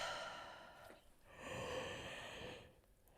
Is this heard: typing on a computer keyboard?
no